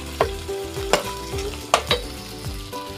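Corn sautéed with moringa leaves in a pan gives a continuous sizzle, broken by sharp spatula scrapes and knocks every half second or so, close and fairly loud with no talking.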